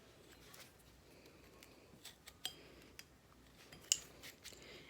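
Quiet, close snips of scissors trim away excess material, a handful of separate cuts spaced irregularly over a faint background hush, one a little sharper than the rest.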